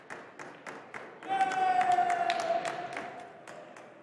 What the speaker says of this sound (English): Crowd claps in the background.